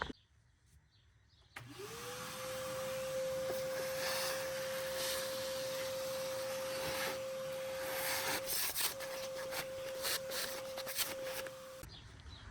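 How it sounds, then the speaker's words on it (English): A steady vacuum motor whines at a constant pitch while cleaning out the engine airbox of a BMW 535i F10 with an N55 engine, starting abruptly and running loud for about ten seconds, with a brief dip before resuming. "we're going to go back to the airbox and just vacuum and clean up everything inside"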